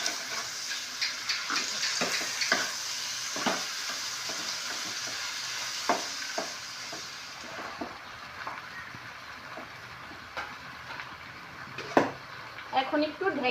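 Malabar spinach leaves sizzling in a hot pan as they are added and stirred, a steady frying hiss with scattered clinks and scrapes of the utensil, and a voice talking over it.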